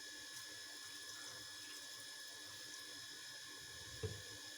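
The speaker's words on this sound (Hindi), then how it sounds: "अब इसमें मैं ये ठंडा पानी डाल रही हूँ, फ्रिज में रखा हुआ" Cold water from the fridge is poured into whipped cream that has begun turning into homemade butter, giving a steady, soft watery trickle with a faint low splash near the end.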